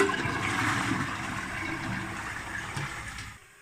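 A toilet flushes with a rushing, gurgling swirl of water that holds steady for a few seconds and then drops away.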